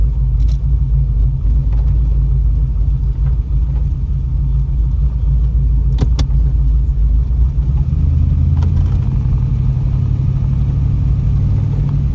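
A 1981 Trans Am's engine rumbles steadily from inside the car while driving, a deep, loud, continuous drone with a slight shift in pitch partway through.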